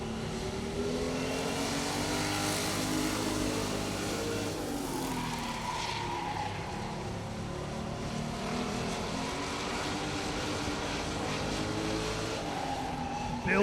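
A race car laps a raceway during a qualifying session at a short-track racing event, its engine a continuous loud drone with rising and falling pitch as it circles, steady throughout and with no talking over it.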